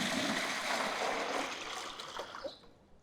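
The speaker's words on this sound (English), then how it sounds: "is we'll put in 20 liters of water." Water pours steadily into a large basin being filled with about 20 liters for mixing a copper fungicide treatment, a continuous rushing wash that tapers off near the end, with no voices.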